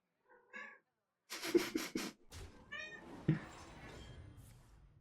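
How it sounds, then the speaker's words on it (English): A pet cat meows several times up close, a short cry, a run of quick chirpy meows, then a longer drawn-out one, with quiet rustling between calls. "You little fat cat, you."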